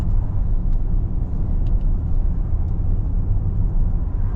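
A Bentley Bentayga Hybrid rolls over a patchy, bumpy road, giving a steady loud low rumble of road and tyre noise heard from inside the cabin, with faint light knocks over the drone.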